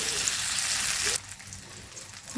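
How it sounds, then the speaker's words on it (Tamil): Loud, close sizzling of eggplant sautéing in a hot pan, which suddenly drops to a much quieter crackle partway through. "தனியாக வெறும் கத்திரிக்காய் போட்டிங்கன்னா இந்த மாதிரி வதக்கி போடுங்க"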